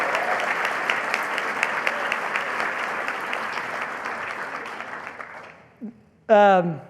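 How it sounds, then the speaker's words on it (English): Audience applause at a fraternity convention awards presentation, dense steady clapping from a large crowd for several seconds, fading out before a brief voice and a louder voice start speaking at the end. "So a round of applause for Sigma Nu for cleaning up on awards interfraternally."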